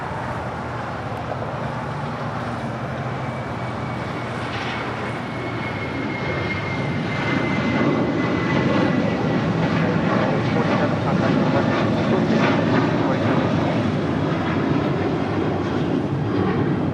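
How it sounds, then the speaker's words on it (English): A United Airlines Boeing 737-800 departing LAX for Denver, heard as a steady jet roar that swells louder partway through and then stays strong, with a whining engine tone sliding across the early part. "That was United Airlines flight 1647 heading to Denver in the 737-800"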